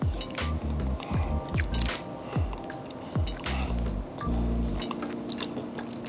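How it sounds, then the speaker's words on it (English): Crunchy bites into breaded parmesan chicken flats, several sharp crackling bites at a steady chewing rhythm, close and clear over a persistent low background hum. "I hope you guys can hear that crunch."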